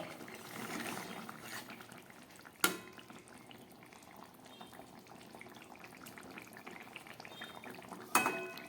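Folui fish jhol simmering in a pot makes a soft, steady bubbling, heard quietly and close. Two brief metallic clanks stand out, one early and one near the end.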